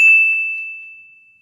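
A single bright notification bell ding, struck once up close and ringing out as a clear sustained tone that fades over about a second.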